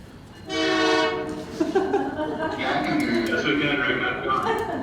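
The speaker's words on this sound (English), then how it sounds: "the train that only comes here about once every 3 days just rolled through and is blowing its horn" A passing train sounds its horn in a long, loud harmonic blast, then rumbles on under a person talking over it during a city council meeting in Newport.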